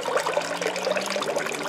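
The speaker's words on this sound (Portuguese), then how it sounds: "que tem um bebedouro natural," Water trickling out of rocks into a natural drinking fountain at a grotto church, a steady close splashing dribble with no talking.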